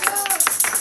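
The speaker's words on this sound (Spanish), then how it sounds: "Den un aplauso al Rey y glorifique su santo nombre" A church congregation claps during a worship service, a short burst of close, uneven hand claps with a voice sounding underneath.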